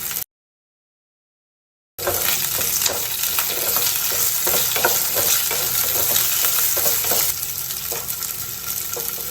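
Thinly sliced ivy gourd (kovakkai) pieces sauté in hot oil for a gravy, giving a steady, fairly loud sizzle with light stirring scrapes after a brief silent gap at the start.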